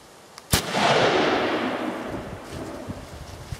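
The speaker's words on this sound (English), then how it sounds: "So here's a 243 with 100 grain ammo." A single loud rifle shot from a .243 firing 100 grain ammunition cracks sharply, then a long rolling echo slowly fades across open ground.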